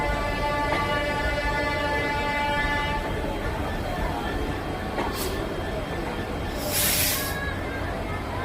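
A Siliguri–Haldibari DEMU passenger train rumbles along the rails with a loud continuous roar and a droning engine tone, cut by two sharp hissing bursts. Faint voices can be heard beneath the train noise.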